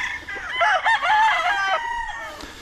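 A rooster crows once, loud and close, with a long wavering call on a small farm, over faint background noise.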